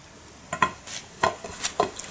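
Knife cutting a small baked fig jam sweet in half on a plate, giving a series of soft scraping and tapping strokes in a loose rhythm, close and fairly quiet.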